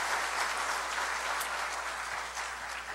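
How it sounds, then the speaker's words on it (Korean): A church congregation in Changwon applauds, giving a continuous, fairly distant and moderately quiet wash of many hands clapping throughout. "우리 수고하는 전도사님하고 우리 여러분께 박수 한번 보내주세요."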